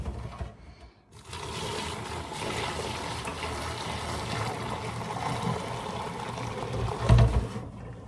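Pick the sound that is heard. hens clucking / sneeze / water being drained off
water being drained off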